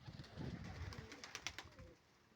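Soft, low cooing of doves in a short rhythmic run, fairly close, with a few faint higher chirps over it.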